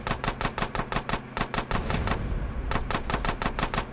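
Rapid gunfire in GTA San Andreas, a fast rhythmic burst of closely spaced shots, briefly pausing near the middle before resuming, loud and alone.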